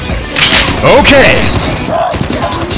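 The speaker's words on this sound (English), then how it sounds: "Heavy machine gun." Heavy machine gun fire in the mobile shooter Call of Duty Mobile, a dense burst of loud rapid shots mixed with game effects and some voice-like sounds throughout the short stretch.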